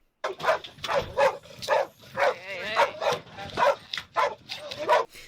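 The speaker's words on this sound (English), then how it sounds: "no one's paying attention to the dog because it's just barking in the back like it's trained to do" A dog barks and yips repeatedly in short bursts, with whimpering mixed in.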